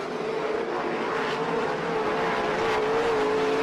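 Speedway race cars circling the Warrnambool track during a night heat, a steady distant engine drone with a wavering pitch as the field runs bumper to bumper, continuous and fairly even in level.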